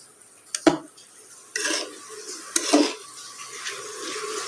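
A spoon scrapes and clatters around a pan as a vegetable curry with beans is stirred, giving a few distinct metallic knocks and swishing strokes close by, with a faint sizzle underneath and no talking.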